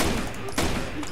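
A sharp burst of gunfire cracks out once, loud and abrupt, over a dense background of noise in the video game Rainbow Six Vegas 2.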